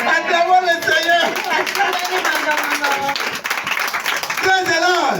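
A church congregation claps and cheers in praise, with steady applause mixed with loud voices and sung or shouted acclamation throughout.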